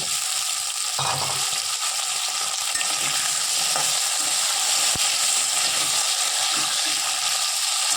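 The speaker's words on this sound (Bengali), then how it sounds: "ভেজে নিয়ে তারপর শাকটা দেবো। কুমড়ো, আলু আর মূলো।" Pumpkin, potato and radish fry in a pan with a steady, close sizzle, and a few stirring scrapes break through now and then.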